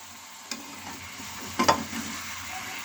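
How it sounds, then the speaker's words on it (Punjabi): Potatoes, carrots and peas being stirred in a pan, a faint sizzle with a sharp scrape near the start and a louder cluster of spatula scrapes and clinks midway. "ਇਹਨੂੰ ਚੰਗੀ ਤਰ੍ਹਾਂ ਹਿਲਾ ਲਾਂਗੇ"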